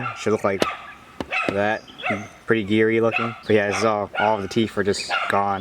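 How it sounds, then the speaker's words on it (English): A dog barks in short, intermittent bursts somewhat off to the side, mostly buried beneath a man's steady, close talking. "Sorry about my dog barking over there."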